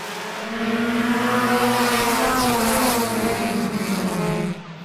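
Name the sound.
race cars during a heat race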